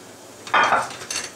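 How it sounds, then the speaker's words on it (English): Chopped onions tipped into a soup pot for French onion soup make a short clattering knock against the metal, followed by a second fainter scrape or tap. "Okay, I'm going to put the onions in."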